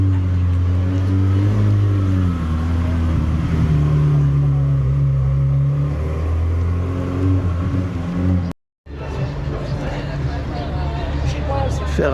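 A Ferrari engine roars loudly and steadily up close at a collector car show, the pitch swelling and easing like revving, cut off briefly by a short gap before the rumble returns.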